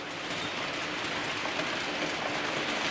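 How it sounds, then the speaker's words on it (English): A BR green model passenger train runs on an analogue model railway layout, giving a steady, close, whirring rumble that continues without a break. "the BR green passenger train come through on the inside"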